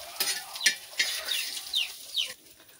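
Mullet (boi) fish sizzling as pieces are dropped into hot oil on a heated griddle pan, a series of sharp crackling splashes at irregular intervals, close and moderately loud, with no talk.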